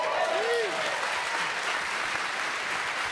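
Steady, loud audience applause fills a live reunion panel for the Party Down cast, with a brief whistle rising near the start.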